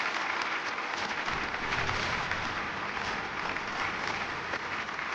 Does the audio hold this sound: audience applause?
yes